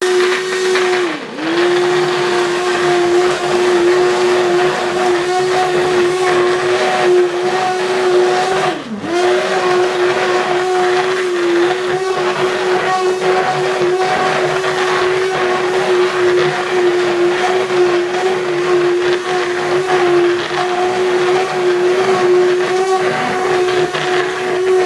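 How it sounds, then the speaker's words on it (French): Blender running steadily for about 25 seconds, coarsely blending lentil soup; a loud, continuous motor whine with a constant pitch, briefly dipping twice as the load shifts, with no talking. "donc là je vais mixer grossièrement"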